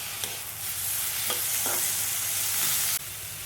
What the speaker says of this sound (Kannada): ಈರುಳ್ಳಿ ಹುರ್ಕೊಳ್ತಿದ್ದೀನಿ